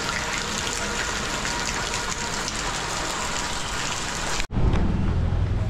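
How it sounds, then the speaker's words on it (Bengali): Steady heavy rain pours down outside a mosque, a dense even hiss filling the air, then cuts to a closer, lighter patter with low rumbling at the end. "এখন আমরা মসজিদে আটকা, বৃষ্টি হচ্ছে"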